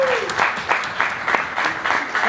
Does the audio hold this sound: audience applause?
yes